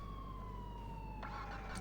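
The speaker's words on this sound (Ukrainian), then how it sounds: "О, поліцейська тачка." A police car siren in GTA IV wails steadily at low volume, its tone sliding slowly downward over a constant low engine hum, with no voices.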